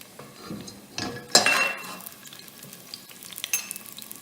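Garlic sizzles in olive oil in a pan for Italian pasta with garlic and chili, a close crackling fry with a sharp burst of sizzle and a clink of a utensil against the pan, then steady spitting, no voices.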